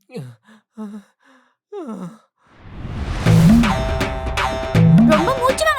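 Someone pants and gasps in short, strained breaths in a nighttime ghost comedy scene, growing louder and rougher toward the end, with a few voiced exhales that could pass for speech.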